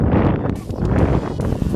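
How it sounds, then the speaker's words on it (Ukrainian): Wind blowing steadily across an open mountain summit in the Ukrainian Carpathians, a broad continuous rushing and buffeting close to the microphone with no pauses. "ми майже наверху вже трошки вітер почав дути"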